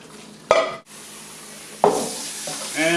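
Tomato sauce with spices simmering in a lasagna pan gives a steady hiss, broken by two sharp clatters of metal against the pan.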